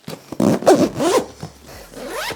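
Zipper closing on a Minimul M38 travel backpack, pulled in several quick, close strokes with short pauses between them: a crisp, rasping zip heard alone and near.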